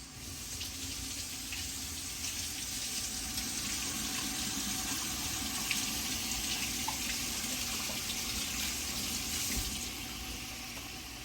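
A head of cabbage is rinsed under a running kitchen tap, a steady, fairly quiet stream of water splashing continuously from start to finish.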